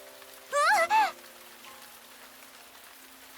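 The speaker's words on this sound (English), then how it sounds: "As the rain begins to fall, we all rush to a nearby awning." Rain falls in a video game scene, a soft, steady hiss of drops under a short, loud vocal exclamation near the start.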